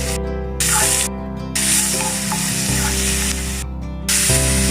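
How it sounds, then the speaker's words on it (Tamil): Chopped onions sizzle and hiss steadily in a hot pan for egg bread upma, loud and close, with a few stirring scrapes and no talk. "வெங்காயம் நல்லா வதங்கணும். நல்லா வதக்கி விடுங்க."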